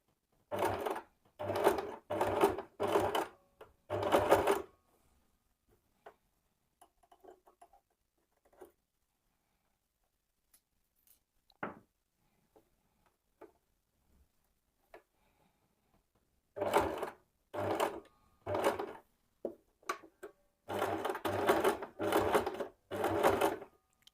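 A domestic sewing machine stitches a bra mockup in fast rhythmic bursts, loud and close, with a long quiet pause of small handling taps between two runs of stitching.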